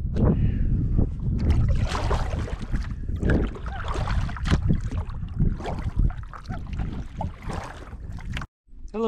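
A canoe is paddled on a lake, with low, close splashes and gurgles of water against the hull and paddle, wind buffeting the microphone and an abrupt dropout near the end.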